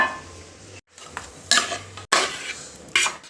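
Meat is tipped into a pot of Kerala kappa biriyani and stirred, giving close metallic scraping and clattering of a spoon against the pot in short bursts over a low background, with no talking.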